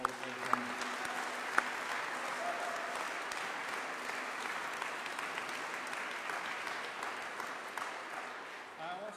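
Audience applause at a state broadband program announcement, a steady wash of clapping from a large room lasting several seconds without pause and fading slightly toward the end.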